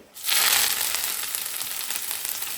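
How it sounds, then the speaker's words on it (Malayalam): Mustard seeds splutter in hot oil for a lentil curry: a sudden burst of loud sizzling that settles into continuous crackling with scattered sharp pops. "കടുക് പൊട്ടിക്കഴിഞ്ഞു"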